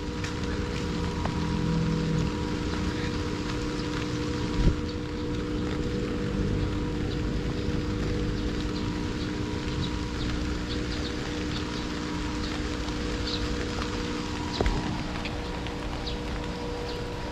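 Steady rain patters under a constant engine hum, with a couple of sharp knocks standing out.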